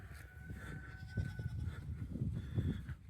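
Goats bleat on a homestead, drawn-out wavering calls rising over a busy farmyard background with scattered thumps and rustles, fairly close but moderate in level.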